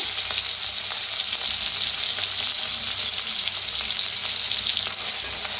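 A ground paste of green chili, garlic and cumin sizzles and fries in hot oil for a karadi leaf dish, making a loud, steady, close-up crackle with small pops throughout and no talking.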